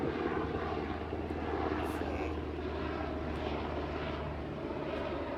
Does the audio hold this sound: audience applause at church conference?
no